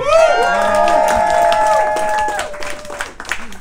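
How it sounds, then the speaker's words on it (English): Studio audience at a comedy panel show cheering and clapping for a winning team, a loud burst of whoops, shouts and applause that holds steady, then thins out into scattered claps and calls. "Cheer Team A, everyone."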